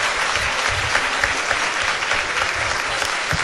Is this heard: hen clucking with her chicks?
no